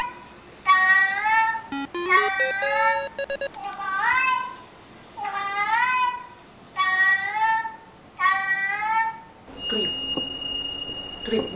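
Cats meowing in a string of clear, drawn-out calls, about six distinct meows one after another with short gaps between them, close and fairly loud, followed by a steady electronic tone near the end.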